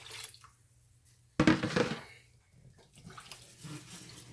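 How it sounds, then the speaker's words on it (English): Cooking liquid from boiled chicken gizzards splashes and gurgles as it is poured over toasted rice for dirty rice, a loud burst of pouring that trails into quieter bubbling and stirring. "We just poured the liquid that we had from our gizzards when we cooked the gizzards"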